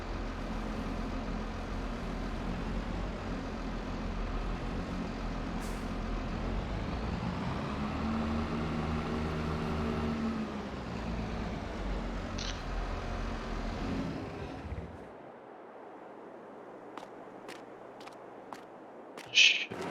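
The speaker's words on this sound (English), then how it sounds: "Let's put the tractor back in its house." Tractor in Farming Simulator 22 driving with a steady low engine drone and rumble for about fifteen seconds, then cutting off, followed by quiet with a few faint clicks and a short knock near the end.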